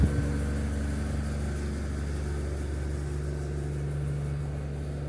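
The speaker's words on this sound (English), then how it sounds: "Got this big old train engine here. Sounds like it's on." A deep, steady diesel train locomotive engine idles outdoors after a blizzard, with a low rumbling drone and constant hum, continuous and fairly close, with no voices.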